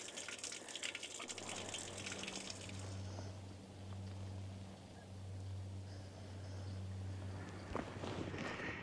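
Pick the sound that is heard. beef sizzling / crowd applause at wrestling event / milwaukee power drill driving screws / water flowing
water flowing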